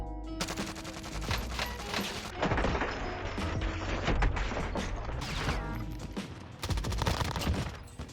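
Sustained assault rifle gunfire in the Warzone battle royale video game, loud dense bursts of rapid shots running almost continuously with brief gaps, no voices.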